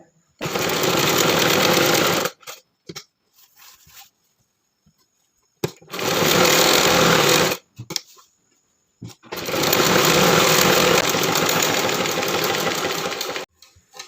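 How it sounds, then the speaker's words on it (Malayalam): An electric sewing machine stitches the neck of a churidar top in three long runs of steady whirring, separated by short pauses with faint handling noises, close and even. "ഒപ്പത്തിനൊപ്പം വെച്ചിട്ട് നമുക്ക് നെക്ക് തയ്ച്ചു കൊടുക്കുക"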